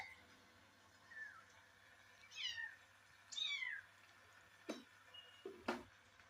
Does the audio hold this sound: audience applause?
no